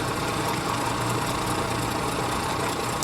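A Dornier Do J Wal flying boat's engine drones steadily and evenly in Microsoft Flight Simulator, a close, continuous, unbroken hum with no voices.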